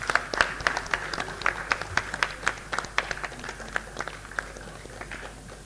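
A modest audience at a regional workshop on biomass co-firing in thermal power plants claps briefly. The claps are crisp and scattered, with a thin, uneven rhythm and no talking over them.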